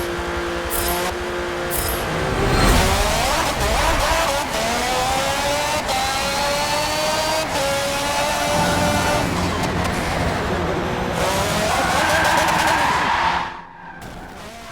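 An F1 race car in a racing video game screams at high revs, its engine pitch rising and falling through gear changes while tyres squeal and skid, loud and continuous throughout before cutting off near the end.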